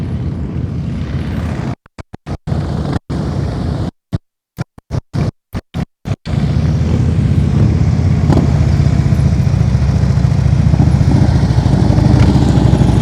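Motorcycle engine idling and rumbling steadily at low throttle during slow-speed riding practice, loud and continuous, with a choppy cut-up stretch early on before a steady close drone.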